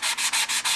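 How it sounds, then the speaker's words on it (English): Soft wood model railroad ties are hand-sanded with 220 grit sandpaper, giving five quick, even rasping strokes in a steady back-and-forth rhythm, close and fairly loud, with no voices. "take some sandpaper, not too rough, 220 grit"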